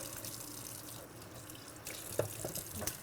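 Tap water runs steadily into a sink while instruments are rinsed in a sterilization room, a soft continuous splashing with a few brighter drips and clinks near the end, no voices.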